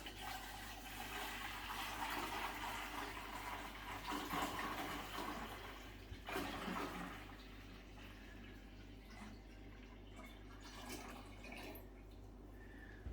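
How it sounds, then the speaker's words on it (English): Room-temperature water pours into a Pinter brewing container, a continuous gurgling, rushing fill with a low steady hum beneath, close and fairly loud, tapering into drips and small splashes toward the end. "put in the remainder of the room temperature water."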